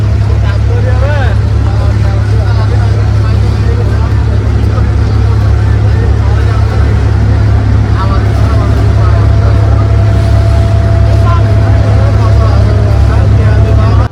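An abra boat crossing Dubai Creek, its engine droning as a loud, steady low rumble that fills the whole stretch, with faint voices over it.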